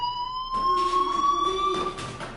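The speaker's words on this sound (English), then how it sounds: "do you hear that fire alarm? That means you should be outside." Fire alarm ringing in the video game Life is Strange, a steady electronic tone with bright overtones that holds for the whole stretch, loud and unbroken, with a muffled pulsing layer beneath it.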